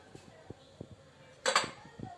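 A metal pot of fenugreek is set down inside a pressure cooker with a short, sharp clank of metal on metal, following a few soft kitchen knocks, with someone speaking quietly nearby.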